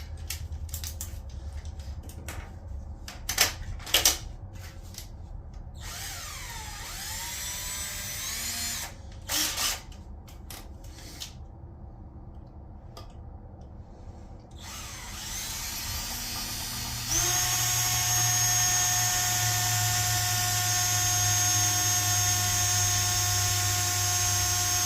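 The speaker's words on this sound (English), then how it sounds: "so we'll go to a real small drill bit" A small drill bit bores into a Honda B18 engine block. The drill starts in short, loud bursts and then settles into a long, continuous whine toward the end.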